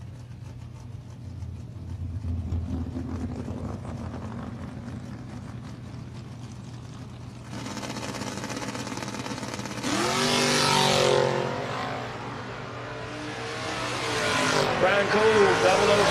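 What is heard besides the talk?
drag racing cars, G-Body and Mustang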